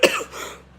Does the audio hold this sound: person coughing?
yes